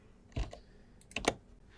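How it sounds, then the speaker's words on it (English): Two distinct key presses on a computer keyboard, close and clear, separated by a brief pause in an otherwise quiet room. "So I'm going to use the delete key on my keyboard to delete the selected piece."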